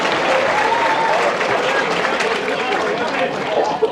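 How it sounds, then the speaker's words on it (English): A crowd at a high school athletic banquet claps steadily in sustained applause, loud and close, with scattered voices mixed in. "Give these runners a round of applause."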